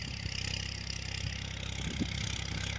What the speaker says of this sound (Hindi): ट्रैक्टर अब तक मैं लो टॉप में चला रहा था